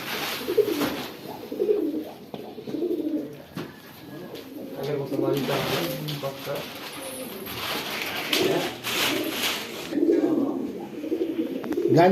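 Racing pigeons cooing nearby in soft, repeated calls at a pigeon race club tournament, mixed with people talking and occasional knocks and shuffling.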